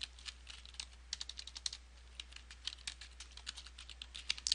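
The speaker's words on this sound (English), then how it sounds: "for the subject, type the name of the essay" Fast, light clicking of typing on a computer keyboard while entering an email subject, an even run of quiet close keystrokes over a faint low hum, with no speech.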